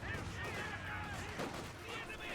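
Heavy .50 cal machine gun fire in the World War II strategy game Company of Heroes 2, a steady, dense clatter of shots blending into continuous battlefield noise for the whole stretch.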